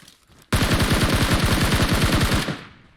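Rapid automatic gunfire in the PUBG Mobile battle royale game comes as one loud sustained burst of about two seconds with evenly spaced shots, followed by a short fading tail.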